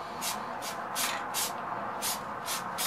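Several short bursts from a spray can onto a carved sign hiss in a quick, uneven rhythm, close by, with faint background noise between them.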